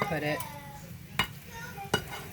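A spoon stirs chicken stew in a pot, with a soft continuous scraping and several sharp knocks against the pot's side, close up with a faint background sizzle.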